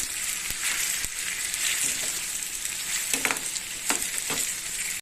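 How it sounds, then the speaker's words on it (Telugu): Potato pieces deep frying in plenty of hot oil on high heat, a dense, bright, continuous sizzle close by, with a few clicks and light scrapes of a utensil against the pan. "ముందు ఆయిల్ వేడి చేసుకొని హైలో పెట్టుకొని కొంచెం ఇట్లా ఫ్రై చేసుకోవాలన్నమాట ఆలు ముక్కలు"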